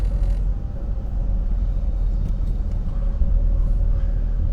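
A car driving, heard from inside the cabin as a steady loud low rumble and road noise with no interruption.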